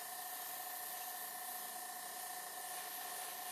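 An airbrush sprays paint onto a resin diorama model kit in a steady, continuous hiss close to the mic, holding an even tone with no pauses.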